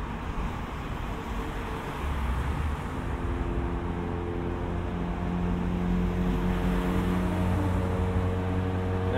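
A Mazda NA Miata with aggressive camber idles nearby, a steady low engine drone with faint harmonic lines, continuous and even throughout, with no talking.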